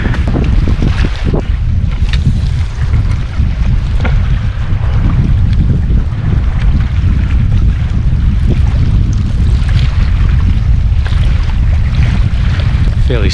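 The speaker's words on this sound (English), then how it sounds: "Fairly strong wind coming across." Strong wind buffets across open water by the shore at a fishing spot, a loud steady roar of microphone gusts with faint lapping waves beneath, no voices heard.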